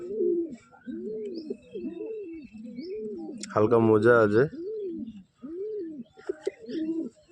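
A pigeon held in the hand coos in a steady run of soft, rounded calls, close and fairly loud, broken midway by a brief burst of a voice.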